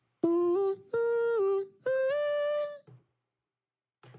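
An original, unprocessed "ooh" vocal sample from a progressive house track: three sustained sung vowel notes in a row, each stepping in pitch, clear and dry, followed by near silence and a faint brief blip.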